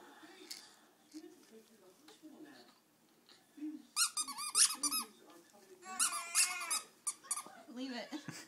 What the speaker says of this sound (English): that's the baby squeaker.